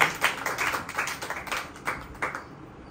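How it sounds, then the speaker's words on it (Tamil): A church congregation claps hands together in praise of the Lord, a roughly rhythmic run of a dozen or so hand claps at moderate level in a reverberant hall, thinning out toward the end. "கைத்தட்டி ஆண்டவரை மகிமைப்படுத்தலாமா?"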